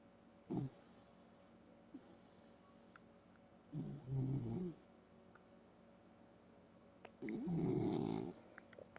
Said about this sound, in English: You're sleeping. You're snoring.